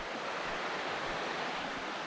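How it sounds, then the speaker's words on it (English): Creek water cascades along a forest hiking trail, a steady soft rushing wash with no voices. "Water cascading along."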